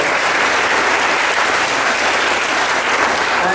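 An audience at a school event applauds, a dense, even round of clapping at steady loudness filling the whole stretch, with no clear voices.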